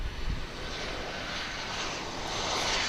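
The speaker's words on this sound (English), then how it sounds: "it's a Cessna supercargo master, of course, going to Abilene in Texas." A Cessna Super Cargomaster propeller plane at DFW International Airport, its engine giving a steady, fairly faint broadband drone heard from a distance throughout.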